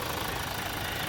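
Engine of a Mazda CX-30 idling with the bonnet open, a steady broadband mechanical hum and clatter, close and continuous with no voices.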